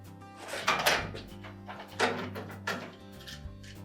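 A replacement door latch on a Whirlpool washer is pushed into its opening, producing a few close plastic clunks and rattling knocks in short bursts, ending in a firmer snap as it seats.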